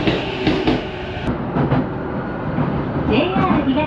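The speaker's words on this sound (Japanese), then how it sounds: "五日市線来たぞい。" A JR Itsukaichi Line train pulls into a Tokyo station, a loud close rumble with clattering wheels and brake squeal, voices talking over the approach.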